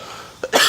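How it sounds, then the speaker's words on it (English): A short, sharp cough in two quick bursts breaks a quiet room tone, close to the microphone and heard alone. "I'm just getting over the cough as well"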